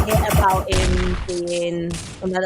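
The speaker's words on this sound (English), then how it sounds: "Give me a gunshot, please." A gunshot sound effect on a racing podcast: a few sharp booming blasts in quick succession, loud and close, with voices talking alongside.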